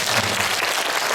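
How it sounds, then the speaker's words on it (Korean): A church congregation at a Sunday service gives a brief round of applause, a full, even patter of many hands clapping together at once. "수고했다 박수 한번 해주세요."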